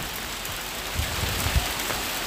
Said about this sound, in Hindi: बाहर बहुत जोर की बारिश आ रही